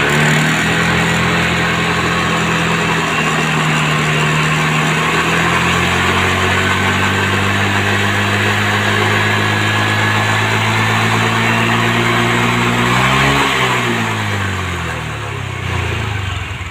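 Honda automatic scooter engine runs steadily and loud after a final drive gear repair, its drone smooth and even, then the revs dip and swing briefly near the end before settling; no one speaks.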